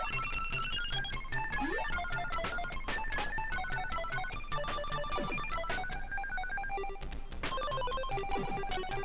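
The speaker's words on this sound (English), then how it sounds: "that is the arcade soundtrack playing for you right there through the AY chip on the Amstrad" The New Zealand Story arcade soundtrack plays through the AY sound chip of an Amstrad CPC: bright, beeping square-wave melody lines with fast arpeggios and percussive blips, steady and continuous with no voices.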